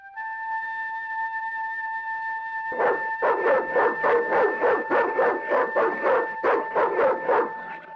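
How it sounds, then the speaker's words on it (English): Guard dog barking in the Broken Sword II point-and-click game at the Marseille docks, a fast, loud run of repeated barks over a steady electronic tone. "The dog went berserk for no apparent reason."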